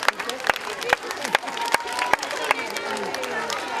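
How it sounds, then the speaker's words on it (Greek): Applause at a school celebration, with sharp claps over crowd murmur and a voice talking through it. "Ένα χειροκρότημα."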